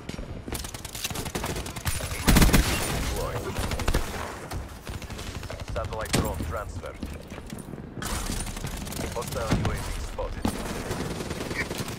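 Gunfire rings out in the online shooter SkyJacked as repeated bursts of rapid automatic shots and single cracks, loud and close, continuing throughout with short pauses.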